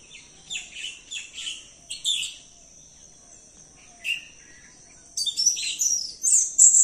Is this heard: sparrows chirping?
yes